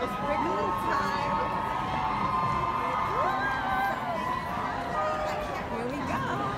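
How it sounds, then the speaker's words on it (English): At the Wrinkle in Time movie premiere on the red carpet, a large crowd screams and cheers in a continuous, loud din, with shrill rising shouts and chatter mixed throughout. "They're just screaming, so somebody big is coming."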